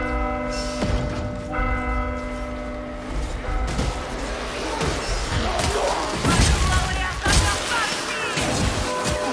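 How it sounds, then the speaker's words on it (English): A large bell clangs repeatedly in the video game Vermintide 2, its long ringing tones layered under heavy crashes and gunfire-like impacts as combat erupts during a Geheimnisnacht ritual event, with a voice briefly talking. "Set the bell ringing."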